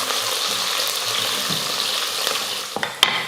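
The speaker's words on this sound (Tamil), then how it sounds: "இப்போ இதை நல்லா பொன்னிறமாக வதக்கிக்கலாம்." Onions sizzle steadily in a hot pan, browning for chicken biryani, a continuous crackling fry with a couple of sharp scraping clinks near the end.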